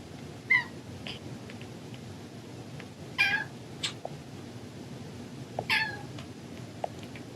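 A healthy young kitten gives three short, clear meows a few seconds apart over a faint, steady background hiss, with some small clicks and ticks between the calls.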